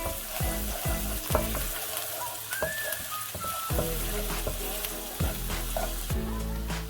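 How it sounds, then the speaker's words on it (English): Garlic frying in hot oil for wontons while it is stirred in the pan, a steady close sizzle with repeated scraping strokes of the spatula and a brief faint whistle midway. "I'm going to add the garlic now and mix it in for a bit until it goes slightly goldeny"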